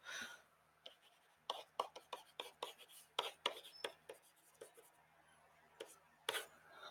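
A marker scratches across a classroom board while algebra is written, producing a rhythmic series of quick squeaky strokes with short pauses between them, close and fairly quiet.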